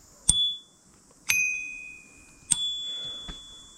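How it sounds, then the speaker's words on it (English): A bicycle bell on a Canyon Commuter 7 rings three times, each a sharp metallic ding with a long clear ringing decay, close and loud in an otherwise quiet space, followed by a fainter tap. "So I just realised they gave me 2 bells."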